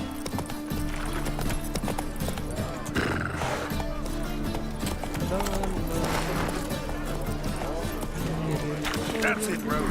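Roach, the horse from the video game The Witcher 3, gallops with rhythmic hoof clip-clops and snorts under a continuous game soundtrack, with voices talking over it.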